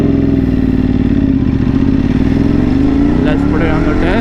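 A motorcycle engine runs loud and close with a smooth, even drone that rises slightly in pitch toward the end, while someone talks over it.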